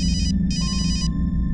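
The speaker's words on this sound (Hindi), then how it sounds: "फोन की घंटी बजती थी" A telephone rings in a home during a crime drama scene, two short bursts of a bright electronic ring over a low background hum, close and clear.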